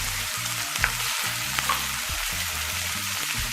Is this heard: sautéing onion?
yes